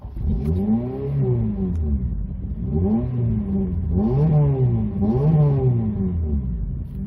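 A 2007 Honda Civic Type R FN2 with a 2.0-litre engine accelerating on a single carriageway motorway, heard from inside as repeated rising engine pulls between gear changes, loud and continuous with no talk.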